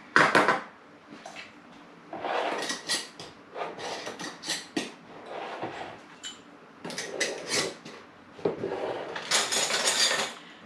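Glass canning jars of bacon clink and knock against one another and the metal rack as they are loaded into a hot canner, in irregular bursts of clatter with short pauses between them.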